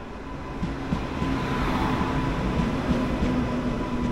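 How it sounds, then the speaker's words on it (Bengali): Sealdah–Lalgola passenger train pulling into a station, a steady rolling rumble with a faint tonal hum, constant and fairly close throughout, with no talking. "এই যে এসে ঢুকলো শিয়ালদা লালগোলা প্যাসেঞ্জার"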